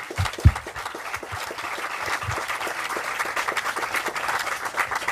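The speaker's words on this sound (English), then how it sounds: "One more round of applause." Audience applause at an awards ceremony, a steady patter of many clapping hands that carries on evenly, with a few louder low thumps near the start and no talk over it.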